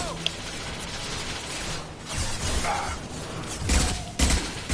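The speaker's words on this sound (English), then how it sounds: "you probably shouldn't run in front of active gunfire" Bursts of gunfire and thuds in Mass Effect 2 over a busy background, with louder shots near the end; no clear speech.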